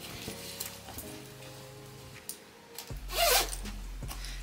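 A Lululemon Scuba full zip hoodie's zipper gives one quick, close zip pull in a quiet indoor room, with faint rustling of the fabric around it.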